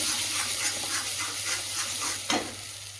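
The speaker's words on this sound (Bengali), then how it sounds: "মশলাগুলো মিক্সিতে বেটে এনেছি, এবার তেলের মধ্যে দিয়ে দেবো। মশলাটা ভালো করে কষিয়ে নিচ্ছি আবারও।" Steady, close sizzling of a ground spice paste frying in hot oil for a prawn curry, with soft scraping as it is stirred and a brief sharper clatter near the end.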